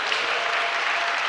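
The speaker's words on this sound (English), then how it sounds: "Actually, everyone clap because you all got here at 8:30." Dense applause from an audience at a nonprofit talk fills the room, steady and sustained throughout, with no pauses or voices rising above it.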